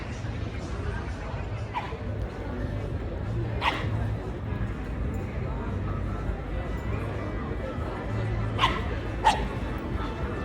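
Dogs play in an ordinary garden in Switzerland, giving a few sharp barks and yips among soft whimpers. Background voices murmur throughout.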